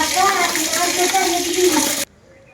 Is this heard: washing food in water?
yes